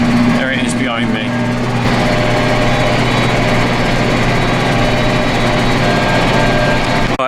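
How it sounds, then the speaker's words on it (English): A farm tractor engine runs steadily during fertiliser spreading, a loud continuous droning hum with a strong steady pitch, briefly overlapped by a voice at the start before the engine cuts off at the end. "Right, I just stopped the tractor."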